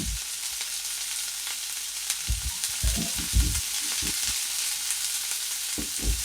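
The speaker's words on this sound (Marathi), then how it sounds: "आपले मासे छान भाजलेले आहेत दोन्ही बाजूनी असंच आपल्याला आलटी पलटी करून त्याला भाजून घ्यायचं आहे" Pieces of fish shallow-fry in oil for crispy Maharashtrian fish fry, with a continuous sizzle broken by a few low thuds and clatters as the pieces are turned over. No one speaks.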